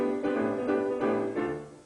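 Opening of a song played in Dorian mode, a steady band texture with a rhythmic kick pushing through several short chordal phrases, loud and without voices.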